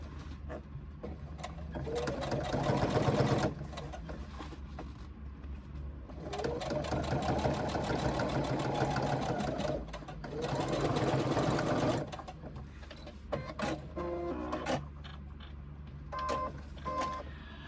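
A sewing machine stitches a seam on a fabric pouch, running in three long, steady buzzing bursts separated by short pauses and softer handling clicks, close and clear.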